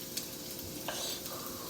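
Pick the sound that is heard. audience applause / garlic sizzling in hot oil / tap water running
garlic sizzling in hot oil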